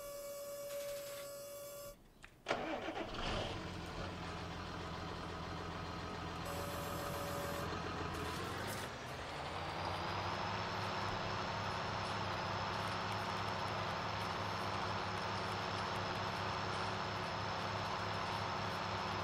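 A John Deere tractor engine, working in a cotton field during weeding, starts up after a few seconds of machine noise and settles into a steady, smooth, fairly quiet running hum that holds to the end.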